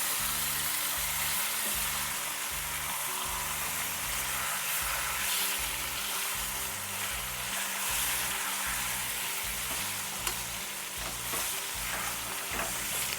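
Onions fry in a pan for chicken curry with a steady, close sizzle, stirred now and then with soft scraping, with no one speaking.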